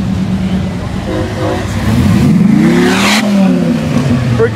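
A Dodge Viper at a car show in Beaumont, Texas revs loudly nearby, the engine note climbing and falling in a sweeping roar, with people talking and cheering over it.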